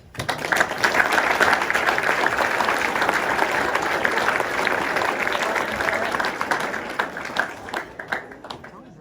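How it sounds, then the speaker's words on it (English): Sustained round of applause from a crowd at a sports banquet, many hands clapping steadily for several seconds before thinning out near the end, with some voices mixed in. "So I want to take a second and give them all just a round of applause."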